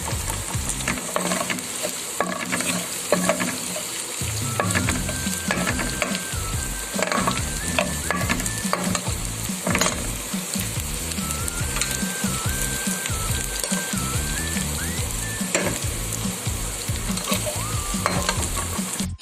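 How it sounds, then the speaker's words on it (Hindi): Cumin seeds fry in hot oil in a pan, giving a steady close crackling sizzle with occasional stirring scrapes, heard alone without talk. "ज़ीरा फ्राई हो चुका है,"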